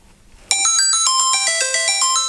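A mobile phone rings with a bright, chiming melodic ringtone, set off from a CareGo GPS safety tracker's find-phone button; it starts abruptly and plays on loud and close.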